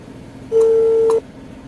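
Single telephone dialing tone, a clean steady beep lasting under a second, loud and close, with no talk around it.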